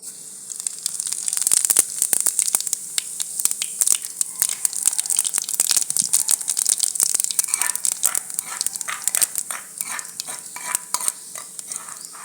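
Cumin seeds dropped into hot oil for a Punjabi village-style gravy give a steady, crackling sizzle with scattered sharp pops and stirring scrapes, close and continuous, with no talking.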